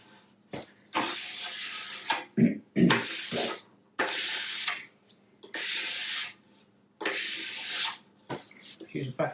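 A hand rubbing briskly over the waxed base of a snowboard at home, a series of five or six broad, dry swishing strokes, close and fairly loud, each separated by short pauses.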